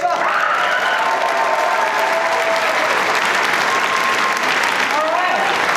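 A commencement crowd applauds the graduating class of 2022 with loud, continuous clapping mixed with scattered cheers and whoops, sustained across the whole stretch with voices in the crowd.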